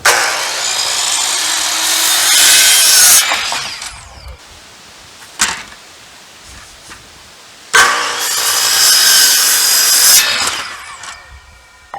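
Power saw cutting through a small felled tree to make bench legs: two long loud buzzing cuts separated by a quieter pause with brief knocks and clicks, close by.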